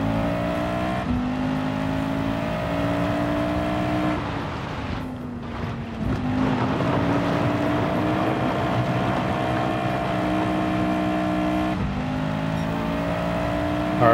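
A race car engine in Gran Turismo 7 holds a steady, loud drone down a straight, dipping briefly as the driver lifts off and then climbing through shifting gears on the run to the end of the lap.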